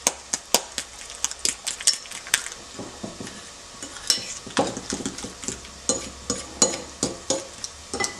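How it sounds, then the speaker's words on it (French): A utensil stirs a courgette, carrot and garlic tart filling in a bowl, giving close, steady scraping and clinking strokes in an uneven rhythm. "Vous mélangez le tout."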